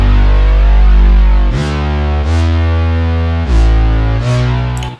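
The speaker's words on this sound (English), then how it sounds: "And now you can increase the amount of chorus just by using the actual level here." A distorted EDM synth bassline, thick with chorus, plays loud and alone, holding sustained notes that shift pitch a few times with sharp attacks between them.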